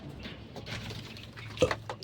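Pigeons coo in a loft, low soft calls, one note sounding a little louder near the end, over faint background noise.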